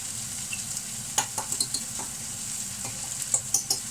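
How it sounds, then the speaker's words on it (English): Crushed garlic sizzles in a hot pan for a peanut butter chicken stir fry, with a steady frying hiss and several sharp stirring scrapes and taps, close and without talk. "Right, that's the crushed garlic in now."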